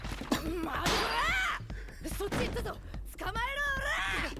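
Cat meowing in the anime Dan Da Dan, several rising and falling mewls spread across a few seconds, fairly loud and mixed with other soundtrack noise.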